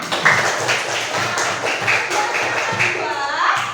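Students in a classroom clap their hands in a rhythmic, patterned series of beats at close range, with a teacher's voice speaking briefly over the clapping.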